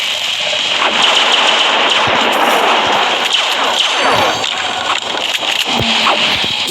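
Dense, continuous gunfire rattles through a video game, loud and close with a steady crackling wash of rapid shots over game ambience.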